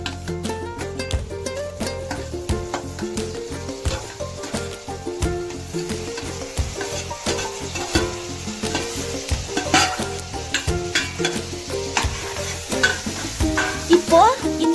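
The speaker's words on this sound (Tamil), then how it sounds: "இப்போ இந்த வெஜிடபிள்ஸ் எல்லாம் நல்லா வதக்கணும்" Tomato, beans, carrot and capsicum stir-fried in a pan, with a steady sizzle under repeated scraping and clattering strokes of a spatula, close and fairly loud.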